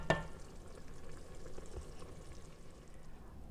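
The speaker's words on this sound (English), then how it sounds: "I'm going to saute it or just let it simmer" Keto cream of mushroom soup simmering in a pot, a faint, steady bubbling sizzle after a brief clink at the start, low and continuous with no voices.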